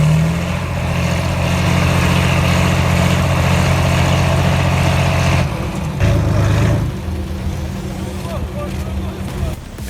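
A Kirovets K701 tractor engine roars at steady heavy load while pulling out a tree stump at a logging event, loud and continuous, easing and shifting briefly near the middle before running on under outdoor noise.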